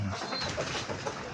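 A pigeon coos softly nearby amid constant outdoor background noise on a gamefarm, a brief low murmuring call rather than a prominent one.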